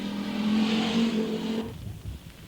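Four-wheel drive rally car on a stage at the 1983 Circuit of Ireland rally, its engine whining loudly as it passes close, then fading abruptly into a lower rumble.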